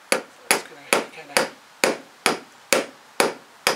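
A hammer pounds a dent out of a car body panel, in a makeshift home bodywork repair done without a ball peen hammer: nine sharp, evenly spaced metallic blows, loud and close, with no talking.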